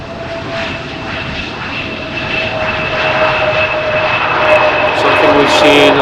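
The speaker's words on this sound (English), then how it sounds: "Meanwhile, another Embraer from KLM just landed." A KLM Embraer jet lands on runway 18R at Amsterdam Schiphol on a windy day. Its loud engine roar has a steady whine and swells gradually as the plane passes nearby, with no talking.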